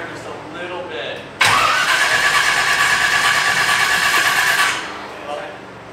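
Car engine cranking briefly, then catching and running loud and steady for about three seconds before cutting out, close up, with some talk before and after.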